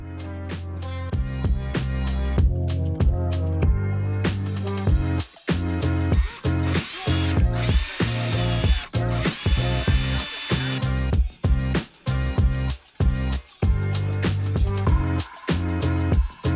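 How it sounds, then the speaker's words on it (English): A power drill whines steadily at close range drilling apart a Toyota Supra MK4 model car, its motor pitch shifting as it bites in, with several short stops and restarts. "we're going to get into drilling the car and taking it apart."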